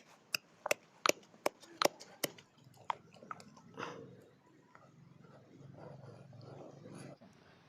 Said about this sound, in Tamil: இப்போ இதை இடிக்க போகிறோம்